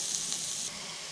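Rice hits a hot frying pan of carrots, green beans and ginger with a steady bright sizzle that drops slightly partway through, close and alone.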